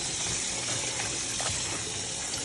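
Hot water gushes steadily from a kitchen sink tap, a close, loud, continuous splashing rush with no talk over it.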